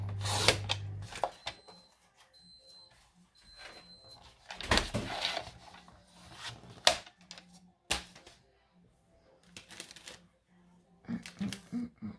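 Paper being cut for a handmade scrapbooking card, with scissor snips and crisp paper rustles coming in short irregular bursts between quiet pauses, close up.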